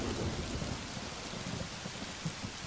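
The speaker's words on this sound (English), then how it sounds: "Right now it's raining, huh?" Steady rain pours down with a continuous hiss, while low rumbling thunder rolls beneath it throughout, with no voices.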